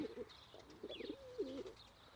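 Gentle throaty cooing from a thick-tailed, grey-capped male pigeon in a garden, a few short rolling phrases ending in one drawn-out warble, near and quiet.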